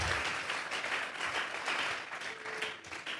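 A church congregation claps together as an offering of applause to God, a dense, steady wash of hand claps filling the room for a few seconds, with faint voices mixed in.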